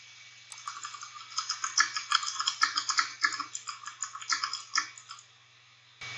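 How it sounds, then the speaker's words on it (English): Rapid, irregular key clicks of typing, close and crisp, continuing for several seconds before stopping abruptly. "How to add typing sound in our text"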